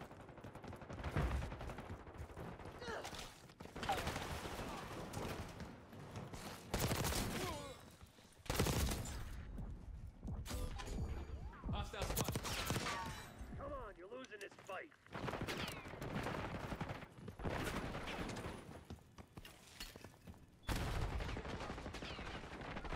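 Dense, continuous gunfire and explosive bursts fill a Black Ops 6 multiplayer match on the Skyline map, with loud shots and chatter layered throughout, voices talking over the action.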